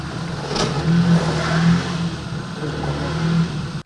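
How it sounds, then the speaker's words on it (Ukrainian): A car's engine revving hard as it drifts and slides on a steep, ice-covered street slope: a loud, sustained mid-range roar that rises and falls in pitch over several seconds, then cuts off abruptly. "Машина дрифтує на кризі, втрачає рівновагу і, врешті, потрапляє в пастку."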